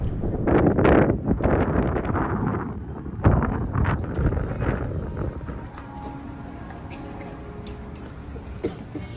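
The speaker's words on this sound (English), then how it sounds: "Little bit windy, but weather is awesome." Wind gusts buffet an outdoor microphone on a breezy morning outside a shopping outlet in Plano, Texas, strong rumbling bursts early that ease into a softer, steadier breeze.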